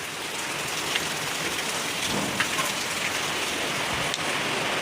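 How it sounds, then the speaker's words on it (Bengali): Steady rain falls throughout, a dense hiss of drops on a hard surface with a few sharper drips standing out; no voices. "বৃষ্টি পড়ছে"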